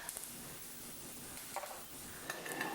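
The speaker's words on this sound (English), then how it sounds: "when that starts to sizzle" A steady, close sizzle of vegan wontons frying in a pan, with occasional light clinks and scrapes of a utensil against the metal.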